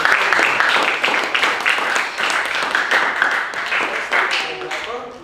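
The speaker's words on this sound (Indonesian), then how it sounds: "maka kita berikan tepuk tangan sekali lagi pada kelompok presenter itu" Applause from an audience at an Indonesian academic presentation session, honoring a presenter group; dense, steady clapping fills the whole stretch, fairly close and loud, fading slightly toward the end.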